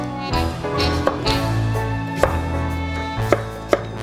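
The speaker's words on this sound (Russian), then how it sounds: "Тыкву для начинки хорошо бы нарезать тоненькими ломтиками" A knife chops pumpkin into thin slices for a filling, giving sharp close taps on a cutting board at an irregular rhythm over a low steady background hum.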